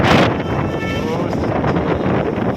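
Strong dusty wind in Bengaluru roars and buffets the microphone in a loud, continuous rumble, with a brief tonal whistle partway through.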